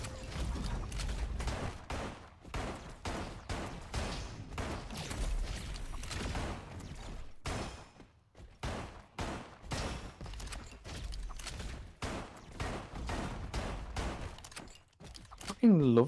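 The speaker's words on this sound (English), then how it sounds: "It's just firing bullets." Steady, rapid gunfire from a weapon in the Roboquest video game, with a dense run of sharp shots, a brief pause midway, and a voice talking over it at times.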